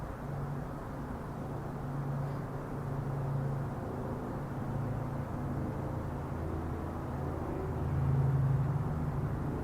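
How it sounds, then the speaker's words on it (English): Steady low rumble of road traffic, with a heavy semi truck swelling slightly louder as it passes toward the end, distant and continuous with no voices. "That's probably a semi going by."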